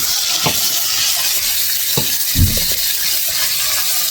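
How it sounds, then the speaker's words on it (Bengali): Cauliflower and potato frying with turmeric in a pan, a low continuous sizzle with a few scraping stirs of a utensil, one heavier clunk midway. "হলুদটা দেওয়ার পর একটু নেড়ে চেড়ে নেব, যাতে হলুদটা কপি আলুর মধ্যে মিশে যায়।"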